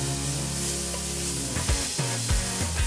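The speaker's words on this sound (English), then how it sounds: "Next, we're going to saute the onions a little bit." Onions sauté in a pot over medium heat with a soft, steady hiss beneath a held tonal hum, then a few clattering stirring knocks near the end.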